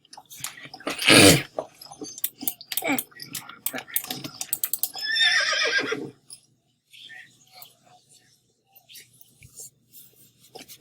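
A horse whinnies once in the video game Star Stable, then clicks and taps come in scattered bursts, and a second whinny is followed by quieter sparse noises.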